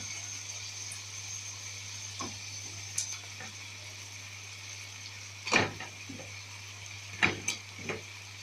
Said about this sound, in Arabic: اشوحها بقى شويه كده مع الفراخ